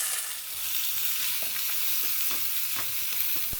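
Onions fry in hot oil in a pan with bay leaves for a Hyderabadi chicken masala, a steady close sizzle throughout with occasional soft scraping and stirring ticks, no voices.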